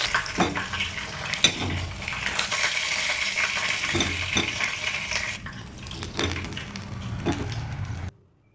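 Spicy garlic chicken fries in a pan with a continuous sizzle, broken by several sharp clinks and scrapes from stirring against the pan, before the sound cuts off near the end.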